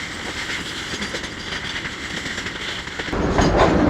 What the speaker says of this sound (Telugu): అబ్బో గూడ్స్ బండి అయితే తప్పదులే